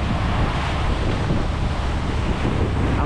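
Ocean waves and gusting wind out on the open Pacific, heard from aboard a small boat: a steady, loud broadband roar of wind buffeting the microphone over churning surf, with no break throughout.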